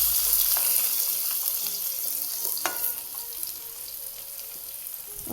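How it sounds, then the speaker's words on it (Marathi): Chopped onion is added to hot oil with cumin, garlic and asafoetida, giving a close, steady sizzle with stirring clinks, loudest at first then settling. "आता कांदा टाकून घेते"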